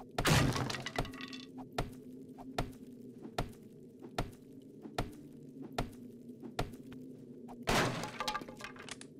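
Breaking into a building in the video game 7 Days to Die: a sharp shattering crash, then a regular series of heavy thunking blows over a low ambient hum, ending with another crash, and no one speaking.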